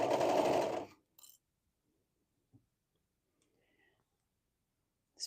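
A sewing machine stitches a hoodie in a single fast, close run lasting about a second, then stops, followed by a few faint clicks and handling noises in near silence.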